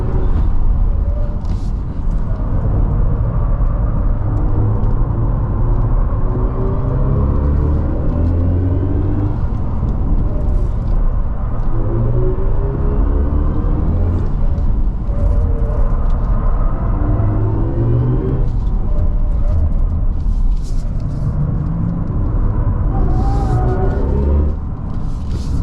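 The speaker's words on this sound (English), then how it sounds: "Boost mode, once the battery heats up, it just adds a little bit more noise." A 2024 BMW i5 M60 electric sedan accelerates hard on a racetrack in boost mode, giving a loud, continuous synthetic drive hum with rising and falling sweeps over a low road rumble.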